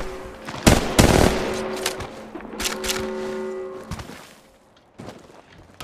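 Close, loud bursts of automatic gunfire from Apex Legends Mobile, with several sharp volleys and a steady crackle of shots in between, dying down near the end before a final short burst.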